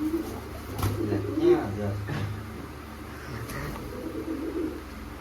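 Pigeons coo softly nearby in low, rolling murmurs, with a few faint knocks and background shuffling.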